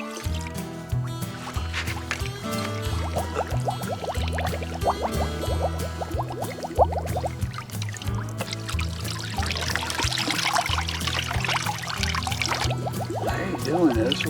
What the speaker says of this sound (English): let me rinse this thing out before we blow up.